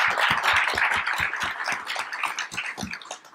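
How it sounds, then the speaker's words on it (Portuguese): Audience applause at a debate event, a dense, steady patter of many hands clapping close by that thins out slightly toward the end. "peço uma salva de palmas para ela"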